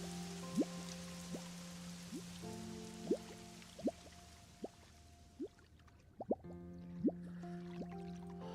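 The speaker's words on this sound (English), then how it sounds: "Sounds like it's raining." Rain falling with individual drops and drips landing on a surface, heard quietly and close, with scattered irregular taps over a soft steady wash.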